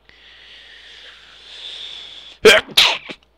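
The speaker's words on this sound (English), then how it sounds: "I gotta sneeze." A person sneezes close up, a soft breathy inhale building for a couple of seconds before two sharp explosive bursts in quick succession.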